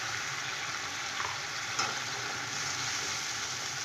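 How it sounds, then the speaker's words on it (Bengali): Turmeric and chilli powder frying in a pan with a little water, a dense, continuous hiss and sizzle at close range with a brief scrape of stirring near the middle, no talk. "মশলাটা ভালো করে কষিয়ে নেব।"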